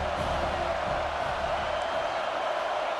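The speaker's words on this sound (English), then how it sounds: "Third down and the crowd really getting into it." A stadium crowd roars continuously during a third-down play in a football video game, a dense, steady wall of cheering with occasional whoops and no break in the noise.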